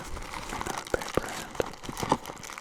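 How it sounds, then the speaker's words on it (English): Soft, close crinkling and rustling of a thin black paper pouch, with a few sharper crackles and crunches scattered through the handling. "I like it as a crinkle background noise kind of thing"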